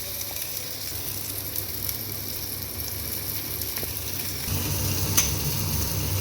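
Raw plantain (vazhaikkai) pieces frying in a pan give a steady, soft sizzle that carries on throughout and grows a little louder toward the end, with a sharp tick or stir near the end.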